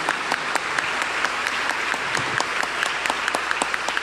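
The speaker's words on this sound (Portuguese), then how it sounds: "Uma salva de palmas ao Sumo Pontífice." A congregation applauds the Pope steadily for several seconds at Sunday Mass in Caraguatatuba's diocesan cathedral, dense clapping filling a reverberant hall with a few sharper claps standing out.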